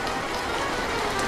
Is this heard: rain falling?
yes